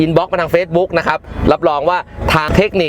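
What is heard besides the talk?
No everyday noise stands out behind the speech.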